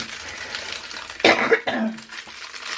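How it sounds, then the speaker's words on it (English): Two or three harsh, close coughs from a person with a cold burst out in quick succession amid a quiet room, with no talking. "Excuse me, very big coughs."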